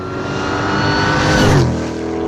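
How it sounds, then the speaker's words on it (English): A supercharged 1,000 HP Jeep Grand Cherokee engine accelerating hard, a loud, sustained, close roar that swells in intensity and then eases slightly. "At low RPM, it's all blower."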